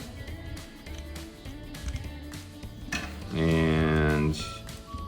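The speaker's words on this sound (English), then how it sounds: "you drop your screws in" Metal screws clink as they drop into the screw holes of a knurled gym handle. The clatter is faint and brief against a low steady background, and a voice hums or speaks briefly.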